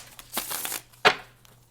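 Tarot cards being shuffled by hand, two quick crisp riffling bursts of card stock close up, with no talking.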